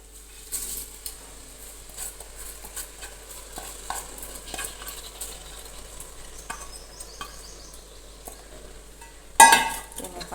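Washed rice is stirred into hot oil in a pan, producing soft scraping and light sizzling throughout, with a louder metallic clatter near the end.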